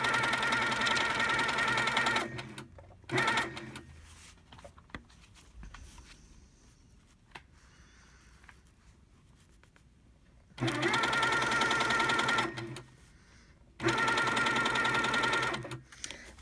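A sewing machine runs in loud, steady bursts of stitching, stopping and starting several times with quieter gaps between runs.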